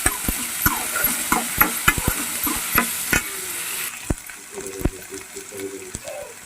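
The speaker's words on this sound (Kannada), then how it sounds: "ಉಳ್ಳಾಗಡ್ಡಿ ಟೊಮೆಟೊ ಕರೀಲಿ ಎಣ್ಣೆ ಒಳಗೆ" Onions and tomato frying in oil in a pan, sizzling steadily while a utensil stirs with repeated sharp scrapes and taps, close and fairly loud.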